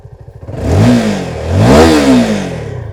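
Keeway K300R motorcycle exhaust climbs to around 9,000 RPM from a pulsing idle: a short rev, then a longer, louder sweep up and back down, close and with no voices over it.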